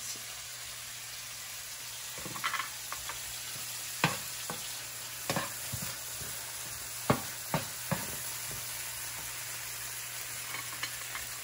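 Soy sauce added to a hot frying pan while stuffed bell pepper filling cooks, giving a steady soft sizzle with scattered sharp clinks and scrapes of stirring, fairly quiet and close, with no talking.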